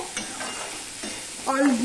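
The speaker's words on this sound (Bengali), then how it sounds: "মাছ ভাজার যে তেলটা রয়েছে, সেই তেলটার মধ্যে আমি সবজিগুলো দিয়ে দিলাম।" Chopped vegetables, including eggplant, dropped into hot oil left from frying fish, sizzling loudly and close with a brief stirring scrape, no talk.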